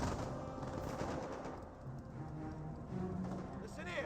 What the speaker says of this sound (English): MG42 engaging the MG42